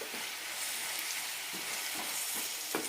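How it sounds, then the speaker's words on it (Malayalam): Tomatoes sautéing with salt in a hot pan over high flame, a steady close sizzle with occasional stirring scrapes, no talking. "കുറച്ച് ഉപ്പ് കൂടി ഇടാം നന്നായി വഴറ്റാം"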